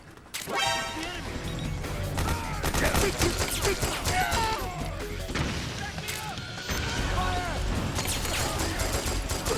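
Gunfire in Metal Gear Solid 4: sustained bursts of rapid shots and crashing impacts fill the scene loudly and continuously, mixed with shouted battle voices and clattering mechanical noise.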